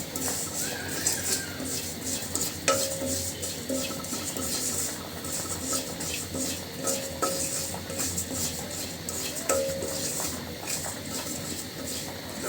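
Sesame seeds are roasted in a pan and stirred continuously. Busy scraping and rattling strokes with light crackling sound close and fairly loud, with no one speaking.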